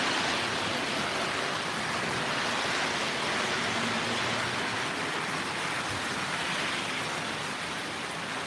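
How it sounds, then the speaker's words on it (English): An O gauge model turbine locomotive pulls a mixed freight train around a layout, giving a steady, close, continuous mechanical rumble and whir with no talking. "we got the turbine again pulling a mixed freight, which is all war goods but disguised"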